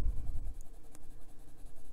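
Pencil coloring on paper in an adult coloring book, a steady scratchy back-and-forth rubbing that stays soft and close with no voices.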